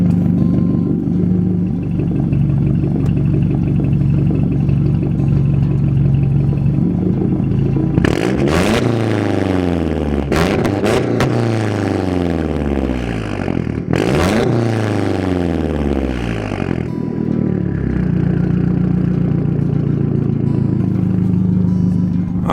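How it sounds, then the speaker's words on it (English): A MazdaSpeed3 with a bigger turbo and Cobb upgrades idles with a steady low exhaust rumble, rising into several sharp revs in the middle before settling back to idle. "let's do a little exhaust sound and let's listen to this bad boy"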